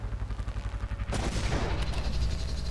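A sudden explosion bursts out after a pulsing rumble, a loud crackling blast that decays into a lingering rumble.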